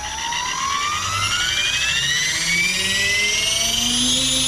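Electric motor of an AK700 RC helicopter with a Castle Creations Phoenix Edge HV 160 ESC spooling up, a loud rising whine climbing steadily in pitch along with a growing rotor whoosh.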